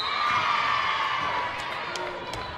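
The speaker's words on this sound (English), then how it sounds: "a raucous crowd here tonight in the gymnasium here" Raucous crowd cheering and whooping in a high school gymnasium at a volleyball match, a steady dense roar of many voices with some sharp shouts near the end.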